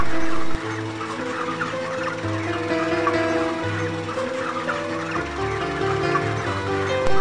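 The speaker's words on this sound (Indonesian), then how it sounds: "Untuk penimbangan kali ini berjumlah 6 ekor ayam betina." Six hens being weighed on a broiler chicken farm cluck and squawk continuously, close and fairly loud, in uneven bursts throughout.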